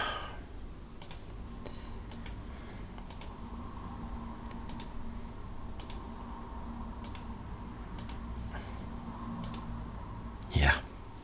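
A computer mouse clicked on a Linux desktop while browsing settings, with a string of sharp, fairly faint clicks spaced about a second apart over quiet room noise.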